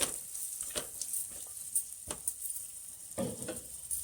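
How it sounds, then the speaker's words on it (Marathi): Raisins and dry fruits roasting in ghee in a pot, a faint steady hiss with a few soft stirring scrapes, close but quiet. "मनुके ड्रायफ्रूट चांगले आपण तुपावर भाजून घेऊ"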